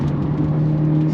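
A Hyundai Elantra N engine pulls hard under throttle through a corner, giving a steady, loud, close drone with a strong low hum and no voices.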